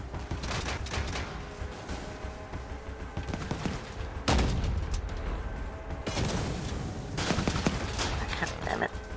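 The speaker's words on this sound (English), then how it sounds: "I do like me the Windfall Cannon." The Windfall Cannon fires in the mobile vehicle-combat game Crossout, loud booming shots at irregular intervals over continuous engine rumble and battle noise.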